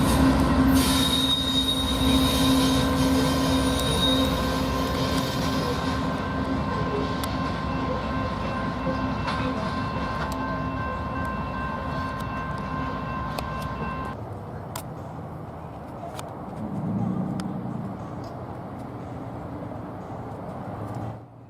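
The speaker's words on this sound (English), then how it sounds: "a northbound Union Pacific grain train" A northbound Union Pacific grain train rumbles past with high metallic wheel squeals ringing for several seconds, then the noise drops to a quieter rolling rumble as it continues.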